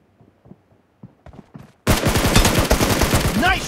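Loud rapid gunfire in a first-person shooter video game bursts in after quiet footsteps and clicks, a dense continuous volley of shots right up close.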